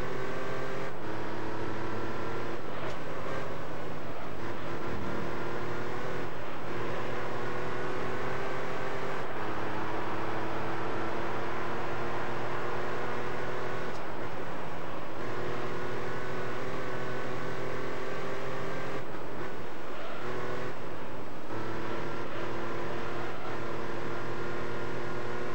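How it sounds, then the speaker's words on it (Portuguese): A steady car engine drone in Gran Turismo 3 on PS2 hums continuously, pitch shifting slightly as it revs up and settles, with a few brief dips; no talking. "E o som do motor também é muito maneiro."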